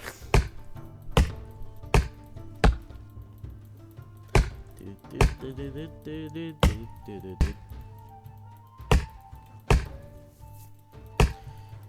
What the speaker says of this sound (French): on va couper ce tronc là